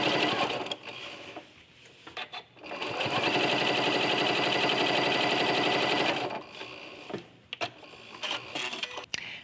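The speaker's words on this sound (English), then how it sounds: "you're going to start stitching this way all the way down your quilt" A sewing machine stitches binding onto a quilt, starting with short bursts, then running loud and steady for several seconds before stopping and giving a few more brief runs.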